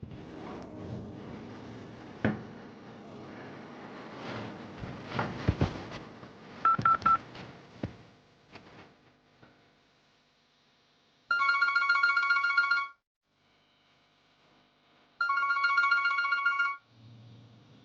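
Knocks and handling noises, then a phone's dial tones chirp, followed by two bursts of electronic ringing separated by a short pause.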